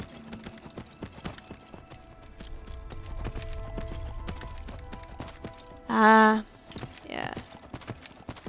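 Horse hooves clip-clop in a video game at a steady trotting rhythm under light game sounds, while a person speaks briefly near the end.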